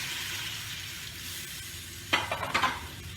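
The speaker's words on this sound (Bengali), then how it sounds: "এবার এতে একটু দেব জল।" Water poured into a pan of sizzling egg curry, a steady frying hiss followed by a sudden burst of louder crackling and spitting in two quick surges, close up with no talk.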